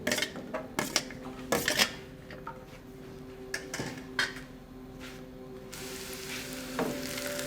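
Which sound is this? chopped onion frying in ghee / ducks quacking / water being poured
chopped onion frying in ghee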